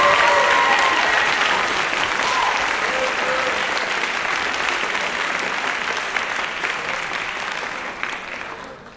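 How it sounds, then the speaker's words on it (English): Loud, sustained audience applause at a school spring band concert, a thick wash of clapping from a large crowd that slowly tapers off toward the end, with a few faint tones early on. "So please give Gianna a big round of applause"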